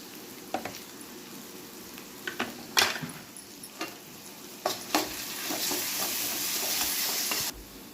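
Turmeric being stirred into softened frying tomatoes for aloo khurma, with a spoon scraping and tapping the pan in scattered strokes over a steady, rising sizzle that runs to near the end.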